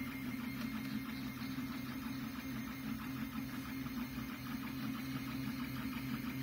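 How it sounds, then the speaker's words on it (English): An Anet A8 3D printer runs a print job, giving a steady low mechanical hum with faint rhythmic stepper-motor whirring that continues evenly throughout, close and moderately quiet with no talking. "the printer is printing."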